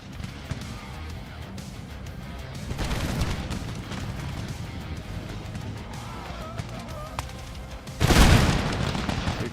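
A musket line fires a volley in Total War: Empire (DarthMod): a sudden loud crackling burst of gunfire breaks out near the end over low rumbling battle noise and scattered distant shots.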